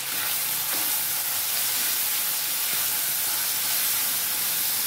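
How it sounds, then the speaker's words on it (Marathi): Chopped tomatoes and onion sauté in a hot pan with a steady, dense sizzle and hiss throughout, close and continuous with faint stirring scrapes and no talking. "ते 2 टमाटे घेतले होते कट करून, ते ह्याच्यात टाकून घ्यायचे आपल्याला आणि छान परतून घ्यायचे"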